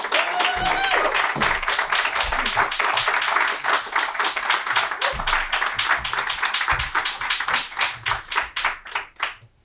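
A small live storytelling-show audience claps and cheers, with loud, distinct hand claps that gradually thin out and fade toward the end.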